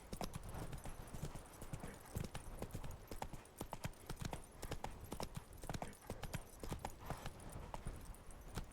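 Galloping hooves of Roach, the horse in The Witcher 3, beat out a rapid, continuous clip-clop, close and prominent, with a constant bed of background game noise beneath.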